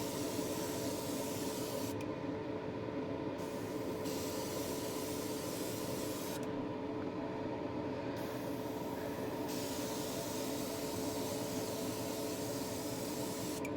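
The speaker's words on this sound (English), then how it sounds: "So we'll clean out our airbrush and be back in a sec" An airbrush being cleaned out sprays in a constant, fairly faint hiss, with two brief changes in tone as the spray is interrupted and resumed, and no voices.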